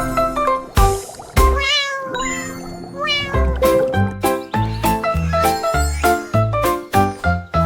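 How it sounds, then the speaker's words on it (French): A cartoon cat meows several times in a French children's song, its bright, wavering cries rising over a bouncy musical accompaniment with tinkling notes, no talking. "puis laissa échapper un miaulement"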